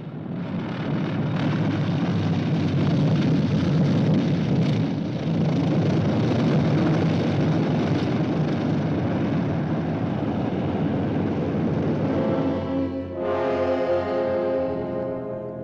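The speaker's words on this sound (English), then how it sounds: "Troop carrier US 11034, you may land on runway 170." US troop carrier aircraft coming in to land on a runway, a loud continuous propeller and engine roar that holds steady, then shifts into a lower, tonal drone near the end, with no voices over it.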